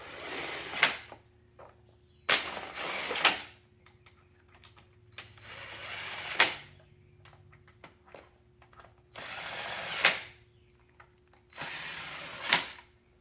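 A ratchet or wrench tightens bolts during motorcycle clutch cable maintenance, giving five separate bursts of rapid clicking and rasping spaced a couple of seconds apart, close and clear, with quiet gaps between and no speech.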